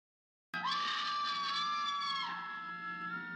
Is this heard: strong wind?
no